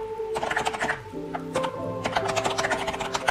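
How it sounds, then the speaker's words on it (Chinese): Soft clacking keystrokes from an Aula A80 mechanical keyboard with gold powder switches, close and moderately quiet, with a steady tone humming underneath and a voice talking over the typing. "它这个金粉轴的声音听起来也是非常的舒适的"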